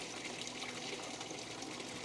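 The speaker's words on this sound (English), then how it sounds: "I got it running over here, and it's pumping the water back in" A small chiller pump returns water into a minnow tank, a quiet, continuous trickling gush with a faint pump hum underneath, steady throughout.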